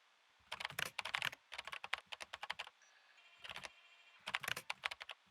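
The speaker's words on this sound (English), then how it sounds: "Typing, spelling." Rapid bursts of typing on a computer keyboard, clicking in quick irregular runs with short pauses between them, close and fairly loud, with no one speaking.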